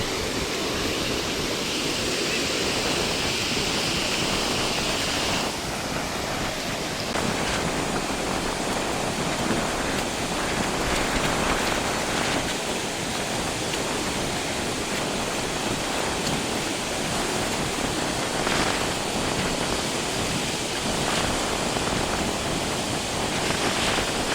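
Water of the rain-filled Andhali dam on the Mangange river, a dense steady roar of rushing water heard alone, loud and unbroken for the whole stretch.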